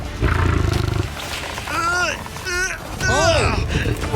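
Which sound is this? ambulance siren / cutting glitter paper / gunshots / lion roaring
lion roaring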